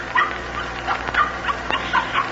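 A puppy whimpers in a 1946 radio drama, giving a run of short, high, plaintive whines and yips at close range over a low, steady hum.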